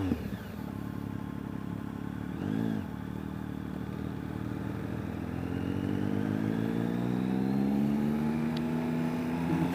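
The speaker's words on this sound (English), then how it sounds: "Great sounding bike." Engine of a 2013 Triumph Speed Triple motorcycle under way, a steady throbbing drone whose pitch slowly rises as the bike pulls in low gears, with a brief clunk near the start and wind rush throughout.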